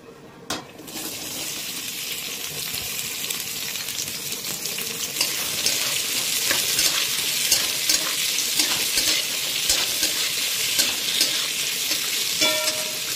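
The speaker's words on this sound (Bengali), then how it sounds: "আর এই তেলটার মধ্যে প্রথমে দিয়ে দেবো বন্ধুরা দেখুন পেঁয়াজ এখানে যে কেটে রাখা রয়েছে জুলিয়ান কাটিংয়ে" Julienne-cut onions drop into hot oil in a pan for a prawn dish and start frying, the crackling sizzle swelling after a quiet start into a loud, steady hiss with scattered pops and stirring sounds.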